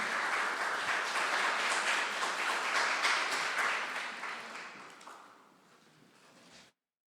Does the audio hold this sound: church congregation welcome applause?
yes